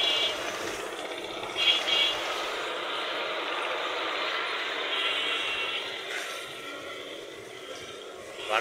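Engine of a 2017 Tata 709 light truck with a basic cabin and 14-foot local open body, running at a steady idle with a constant broad rumble and a few brief higher clanks, heard close by without speech.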